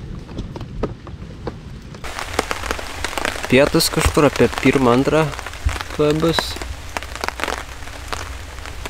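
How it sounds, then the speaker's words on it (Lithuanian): Rain falls steadily during a lakeside fishing trip, a continuous close hiss and patter that runs under someone talking through most of the stretch. "Lietus duoda."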